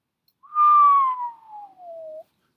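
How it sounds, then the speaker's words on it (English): A person whistles once in amazement: a single long, clear descending wolf-whistle-like tone, loud and close, sliding down smoothly over about two seconds with no talk. "Scooter whistled with amazement"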